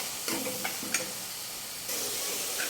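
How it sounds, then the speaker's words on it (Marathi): Tomatoes frying for pav bhaji give a steady close sizzle, with a few light stirring scrapes, and the frying grows louder toward the end. "मी आता याच्यात टोमॅटो टाकणार आहे. त्याला पण कमीत कमी 5-1 मिनिटासाठी छान फ्राय करून घेणार आहोत."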